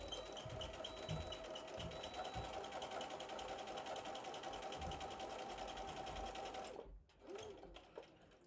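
A sewing machine stitches a cross stitch portfolio bag in a steady, close, continuous whir that runs for about seven seconds, then stops abruptly before a brief softer burst of mechanical noise.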